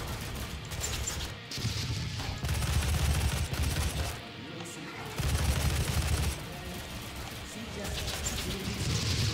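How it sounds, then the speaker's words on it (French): Rapid gunfire from a favourite rifle in the video game Doom, loud, dense bursts with a brief pause midway, under a busy mix of game effects. "Je crois que c'est une de mes armes préférées, ce fusil là."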